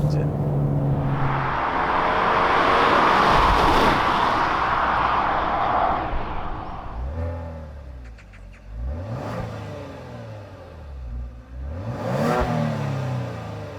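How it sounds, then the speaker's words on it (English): A 2020 Genesis G70 Ultimate package revs hard while accelerating, a building mid-pitched engine roar that peaks and fades, followed by a series of rising and falling revs and shift sweeps, close and fairly loud. "Lovely, lovely engine."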